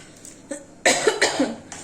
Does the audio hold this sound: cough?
yes